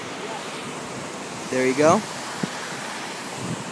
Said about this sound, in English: this waterfall is pretty weak, which is why we can get up so close